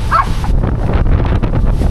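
Strong mountain wind batters a camping mototent with a loud, continuous low roar and buffeting gusts, and a brief higher-pitched call sounds near the start.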